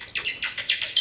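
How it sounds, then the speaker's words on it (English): Giant bats chitter in a played sound effect, a quick series of five or six high, sharp squeaky chirps in rapid rhythm, close and clear. "This is this sound that I'm playing right now. Giant bats chittering."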